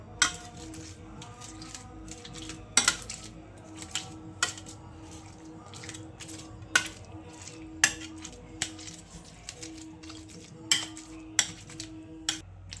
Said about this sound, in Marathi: याला मॅशरनी मॅश करून घेऊया।